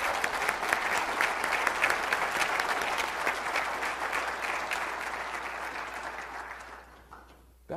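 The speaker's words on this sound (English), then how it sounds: "how about a big round of applause for all those people there." A conference audience claps for the speakers, a dense sustained round of applause that tapers off near the end before a brief cut.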